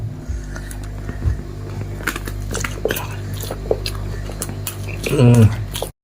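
Egg biryani being eaten with bread from a 30-rupee street serving, with close soft bites and wet chewing, plus a louder crunchy burst near the end over a steady low background hum.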